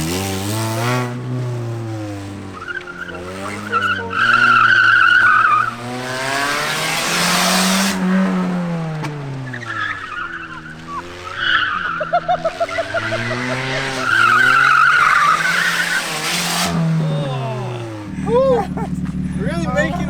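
A car engine revs and sweeps up and down in pitch as it races around an autocross course, with tires skidding through the turns, while people talk loudly over it most of the time.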